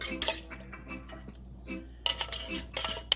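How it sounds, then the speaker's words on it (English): A spoon stirs squash soup with coconut milk in a pot, giving a few light metallic clinks and scrapes against the side, with short pauses between bursts and no talking. "You're just going to stir it a little bit, right?"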